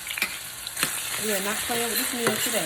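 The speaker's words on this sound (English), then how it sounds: "I got some onion sauteing" Onion sautéing in a pan on the stove, a steady soft sizzle and crackle running throughout, with a person talking clearly over it.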